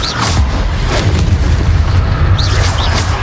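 A Confringo fire spell explodes in the video game Hogwarts Legacy, a loud, sustained booming blast with deep rumble and crackle and brief whooshing bursts on top.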